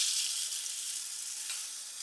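Rice hitting hot oil with cumin seeds in a pan, giving a bright, steady hiss of frying that fades slightly over a couple of seconds, close and fairly quiet.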